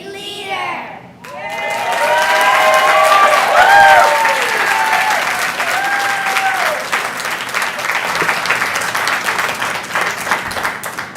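School students at a San Diego Unified board of education meeting clap and cheer, a sustained wave of applause with excited shouts that follows a voice and gradually eases but keeps going.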